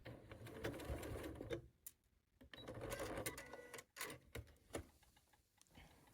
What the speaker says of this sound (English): Now I'm going to back stitch now that my needle's down where I want it.